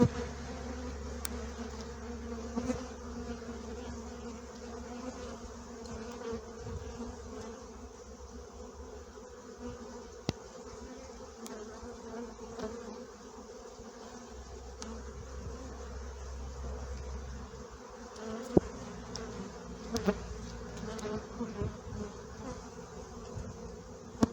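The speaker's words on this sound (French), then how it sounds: "Il y a beaucoup de butineuses qui sont en vol" Honeybee foragers buzz around a beehive during honey production, a steady droning hum of many wings that carries on throughout, with a few louder passes close by and no talk.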